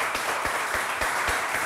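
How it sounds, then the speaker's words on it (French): Steady, dense applause and clapping from a studio audience on a French TV quiz show, a continuous even wash of hand claps with no talk over it. "Applaudissez pour eux."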